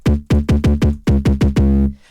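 Punchy 808 bass hits distorted by an amp effect in dual blues mode repeat in a rapid, slightly uneven rhythm, gritty and loud, with the last note ringing out before cutting off.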